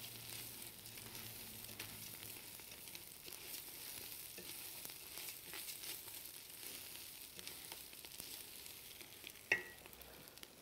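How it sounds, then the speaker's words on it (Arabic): Rice with tomatoes sizzles in a frying pan while being stirred, a faint, steady frying hiss with soft scraping of the spoon and one brief clink near the end. "تو هنا بنحركهم مع بعضهم، بحيث ان الطماطم يلون لي الرز كويس"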